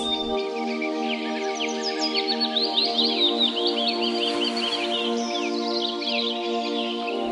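Birds chirp and warble continuously in the Sundarbans forest, with many quick high calls overlapping above a steady droning hum in the background.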